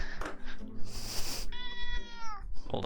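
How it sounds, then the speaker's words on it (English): A pet cat meows in one long, drawn-out call, close and fairly loud, with other indistinct room and game-stream sounds around it. "Hold on, my cat."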